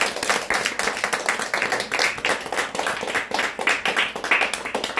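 An audience at an intimate evening event claps in a lively burst, the individual hand claps close and distinct, rising and falling unevenly throughout.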